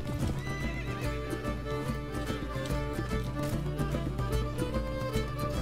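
A horse whinnies and neighs amid steady clip-clop hoofbeats, the sounds layered under a full musical score in a period highwayman drama scene.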